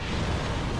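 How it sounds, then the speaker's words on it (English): The dragon Sinh breathes fire in Dark Souls 2: Scholar of the First Sin, a loud, dense, roaring blast that rumbles without a break. "Fire breath?"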